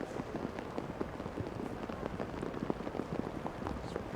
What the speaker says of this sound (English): It's torrential rain.